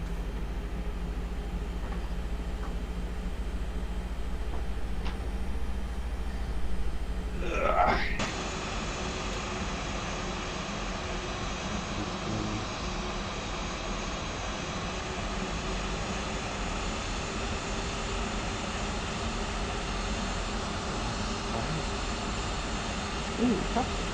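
An Airbus A320 taxiing in X-Plane 11, a steady droning engine whine with a low rumble that holds throughout, shifting once early on and then staying level, with a voice speaking over it.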